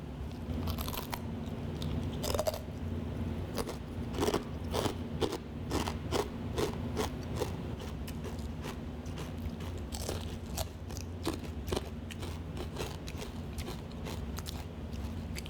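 Crisp snack made from fish crunches loudly as it is bitten and chewed up close, a steady run of sharp crackling bites over about fifteen seconds with no talking.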